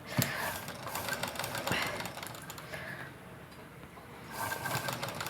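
A sewing machine stitches net, shining and lining cloth together for a garment's back part, its needle running in a quick, steady mechanical patter that eases briefly in the middle and then picks up again.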